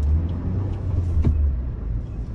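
A 2022 Ford Bronco Badlands pulls in second gear with a deep, steady engine drone heard from the cabin. It stays fairly even, with a slight swell near the middle and no speech.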